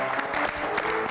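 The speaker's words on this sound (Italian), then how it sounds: "vi prego di accoglierlo con un bel applauso" A studio audience at a local Italian TV broadcast applauds to welcome a guest: a dense, steady burst of many hands clapping close up, with a faint tonal layer beneath.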